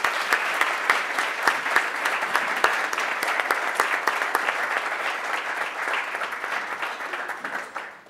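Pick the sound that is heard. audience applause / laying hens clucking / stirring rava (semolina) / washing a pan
audience applause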